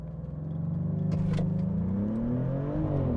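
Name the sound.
Maserati GranTurismo accelerating hard in launch control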